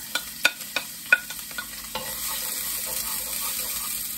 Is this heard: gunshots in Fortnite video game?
no